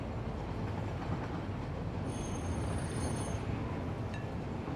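A train rolls along its track in the Satisfactory factory-building game, a steady low rumble with rail noise throughout and a faint high squeal partway through.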